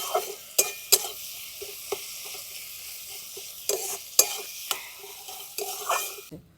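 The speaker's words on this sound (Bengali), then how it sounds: "ওকে ভালো করে ভাজা ভাজা করে নিচ্ছি" Tomatoes and onions with salt and turmeric fry in a pan, a steady sizzle broken by sharp scraping knocks of a spoon stirring against the metal every second or so.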